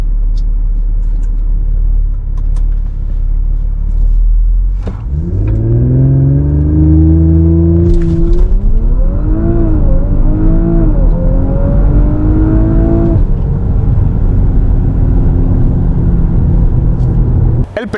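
An Audi RS4 Avant B9 makes a loud, close engine rumble that swells into hard revving as it launches from 0 to 100 km/h, rising in pitch through brief gear-change dips, then settles into a sustained high roar.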